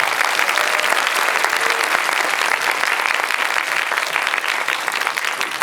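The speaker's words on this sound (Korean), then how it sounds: "박수 한번 보내주세요" An audience applauds a film director at a screening and guest-visit talk for the Korean film The Witch Part 2, steady loud clapping throughout with no pause or voices.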